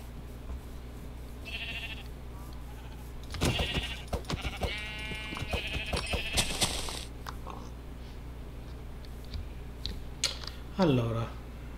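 A black sheep in Minecraft bleats a few times among thuds, clicks and game noise, with a person talking over parts of it.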